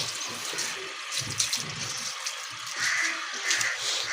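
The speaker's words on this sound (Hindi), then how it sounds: "पर निकल रहा है पानी, आहिस्ता आहिस्ता थोड़ा निकल रहा है" Water flows out slowly and steadily with a soft gushing, splashing hiss, a little louder toward the end, in a household setting after washing clothes and cleaning; a faint voice is barely present.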